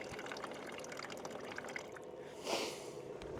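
Water from a hose runs steadily into the water tank of an off-road trailer, a constant trickle and splash throughout with a brief louder gush near the end and no talking.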